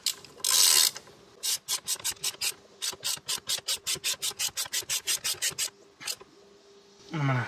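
Hand ratchet tightening a T50 bolt on a 2019–2022 Silverado steering wheel: a rapid, even series of about twenty loud, close clicking strokes with brief pauses at each end.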